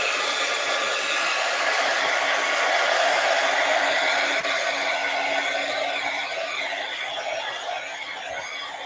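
A hair dryer blows a steady, loud hiss across fresh paint spread on a drop cloth and runs unbroken throughout with only slight changes in intensity.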